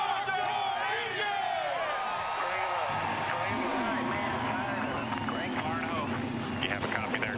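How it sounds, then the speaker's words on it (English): Stock car engines fire up at Talladega for a 2008 NASCAR Sprint Cup race, a rising roar of many engines blended with loud crowd cheering and a public-address voice throughout. "Gentlemen, start your engine!"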